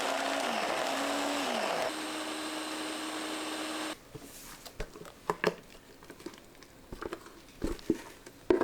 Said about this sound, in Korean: 믹서에 감자, 마늘종 넣고 곱게 갈아줍니다